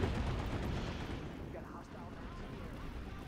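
Continuous rumbling gunfire and explosive booms from a shooter video game, dense and loud through the whole stretch, with players talking over the noise.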